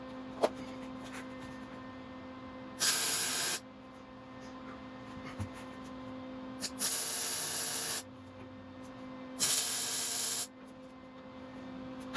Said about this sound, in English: So just time to weld them in now.